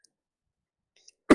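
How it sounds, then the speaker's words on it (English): A single sharp cough from a man on a live broadcast, bursting loud and close after near silence at the very end. "I just coughed, right?"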